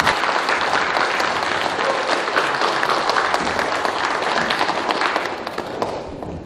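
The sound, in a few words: congregation applauding to welcome a missionary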